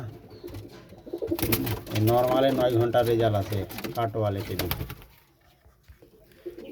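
Pigeons coo in a loft, a rolling murmur of calls that swells in the middle, with someone talking loudly over them.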